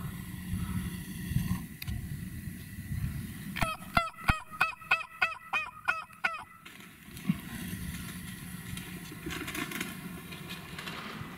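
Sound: man imitating turkey calls with natural voice

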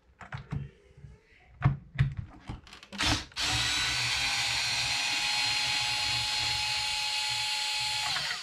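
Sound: power tool removing bolts from Traxxas Maxx bulkhead

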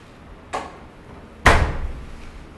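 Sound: door being opened

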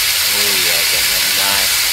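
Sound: food sizzling in a pan in a cooking video game

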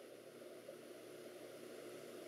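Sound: Alienware Aurora computer fans spinning up

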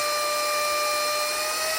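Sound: Usams handheld car mini vacuum cleaner running

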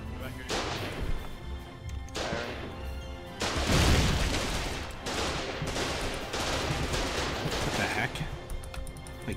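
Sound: artillery firing in video game Foxhole

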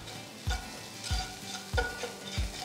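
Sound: stirring frying onions with turmeric and salt

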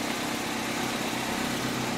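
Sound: 2005 Toyota Corolla LE engine exhaust at idle

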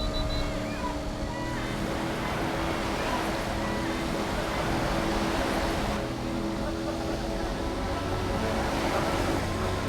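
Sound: ocean waves on the mudflat shore

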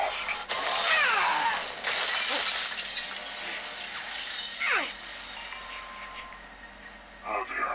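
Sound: glass shattering, from video game Call of Duty Cold War

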